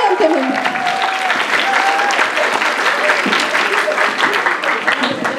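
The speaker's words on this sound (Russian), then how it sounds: "Поддержим аплодисментами" Auditorium crowd at a medical college first-year students' celebration breaks into loud, sustained applause, many hands clapping together with a faint voice briefly audible underneath.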